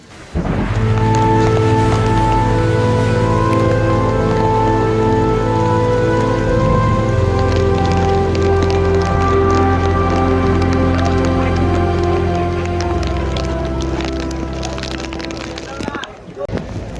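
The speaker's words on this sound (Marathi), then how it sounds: "एकदम जबरदस्त मुसळधार पाऊस सुरू आहे" Heavy monsoon rain pours outside a stopped Nanded–Adilabad Intercity Express at a Maharashtra railway station, a loud continuous wash of noise under a sustained droning tone that fades near the end.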